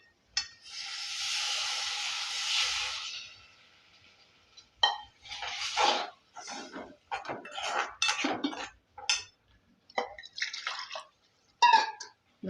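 Water poured into a hot pan of onion-tomato masala for egg curry gives a loud hissing sizzle for a few seconds, followed by a series of clinks and scrapes of a utensil against the pan.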